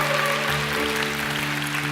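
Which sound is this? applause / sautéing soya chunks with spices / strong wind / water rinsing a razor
applause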